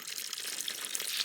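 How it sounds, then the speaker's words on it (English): Spring water on a family farm flows in a steady, close, continuous broadband rush with no breaks, once the source of the family's drinking water. "Things grow up over the years, but she's still flowing strong. The water just keeps flowing."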